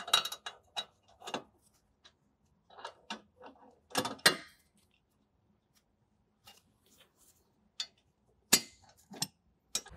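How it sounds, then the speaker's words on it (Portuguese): A Torx key undoing a car's brake caliper bracket makes sparse, close metallic clicks and ratcheting ticks in short bursts separated by silence. "Com auxílio de uma chave Torx, vamos remover o cavalete."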